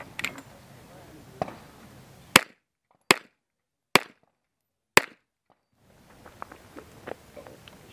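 Four sharp, loud gunshots spaced roughly a second apart at a USPSA practical shooting match outdoors, with quieter clatter and movement before and after.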